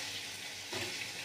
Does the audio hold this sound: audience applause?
no